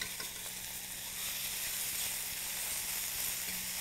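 Flank steak sears in a cast iron skillet, producing a steady, bright sizzling hiss that holds at an even level throughout.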